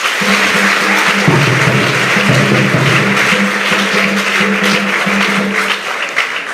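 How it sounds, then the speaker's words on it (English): High school students clap together at a school gardening launch in Ghana, a dense, sustained wash of applause with a low tonal hum running beneath it before it thins out. "Clap for yourself."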